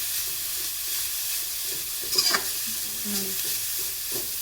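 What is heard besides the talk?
grated coconut frying and being stirred in a pan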